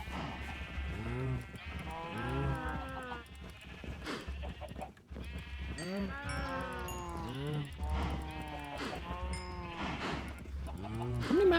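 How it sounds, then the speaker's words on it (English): Cows moo repeatedly in Minecraft, several overlapping low-to-rising calls coming in bursts with short pauses, close and fairly loud. "So let's go breed some more cows."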